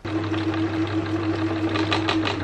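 A home sewing machine stitches a wedding dress with raised thread tension to gather the fabric, giving a loud, steady mechanical whir with a fast rhythmic chatter, close and continuous without talk.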